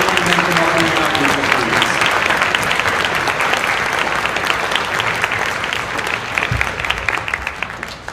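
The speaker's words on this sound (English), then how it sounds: "Please give them a round of applause" Loud continuous applause from the audience at a summer band concert, many hands clapping in a thick steady roar that tapers slightly near the end.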